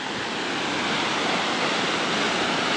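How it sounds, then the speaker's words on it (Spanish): Broad, steady rushing roar of falling water from a waterfall, dense and continuous at moderate distance, with no voices. "Con esa cascada preciosísima."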